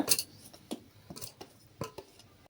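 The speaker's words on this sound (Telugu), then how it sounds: "ఆ టమాటా ముక్కలు వేస్తున్నాను." Chopped tomato pieces for sambar rice are dropped into a metal pot, giving a few scattered clinks and soft knocks, close up and otherwise quiet.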